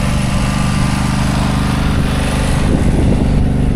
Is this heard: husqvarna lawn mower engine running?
yes